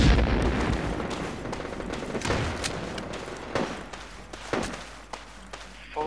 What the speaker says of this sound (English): we're getting grenaded